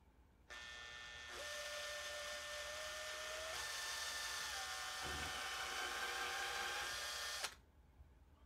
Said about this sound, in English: Then I'll drill it out.